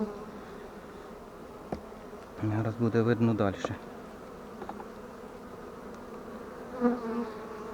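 A steady insect buzz from many honey bees at a hive frame in an apiary hums throughout, swelling into a louder, closer burst midway, with a person speaking briefly over it.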